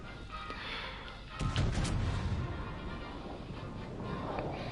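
Warship turrets fire in a naval video game, a heavy booming salvo that rumbles loudly and then rolls away into a dull, lingering background roar.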